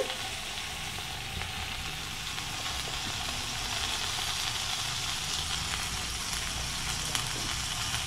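Eggplant sautés in a hot pan, giving a steady, even sizzle and frying hiss that stays moderately loud and close throughout, with no one speaking.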